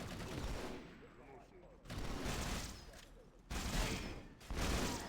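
Rapid bursts of gunfire from a Mark V weapon in a modded Halo single-player game, with several loud fusillades repeating at close range and brief pauses between them, while someone talks over the shooting.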